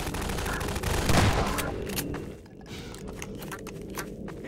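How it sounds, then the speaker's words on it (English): Sustained gunfire in Half-Life 2 on a coastal highway near a lighthouse, a dense, loud burst of rapid shots over heavy rumbling, easing into scattered cracks and clatter. "Who is shooting at me?"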